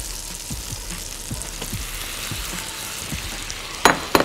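Minced meat sizzles as it frys in melted butter in a pan, with a steady crackle and a few sharper pops, then a brief clatter near the end.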